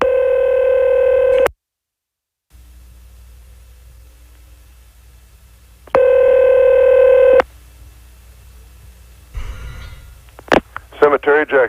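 A telephone line on a late-night radio call-in show: two steady tone bursts separated by near silence, then a quick run of short dialing beeps near the end.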